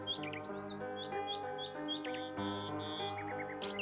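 Cartoon birds chirp in an animated fairy tale, with quick, bright tweets scattered in short bursts over a soft, sustained melodic music bed.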